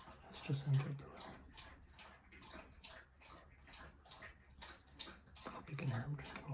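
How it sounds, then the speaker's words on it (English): Sunny the dog laps water from a bowl nearby, a quick rhythmic series of wet splashy licks, faint and steady, with soft whispering over it. "Hope you can hear him drinking water."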